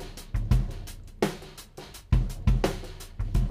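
A drum machine loop by Nate Wood, Sloppy Joe Killing Me Softly, runs at 85 BPM with punchy kicks and snappy snares in a steady groove, loud and alone.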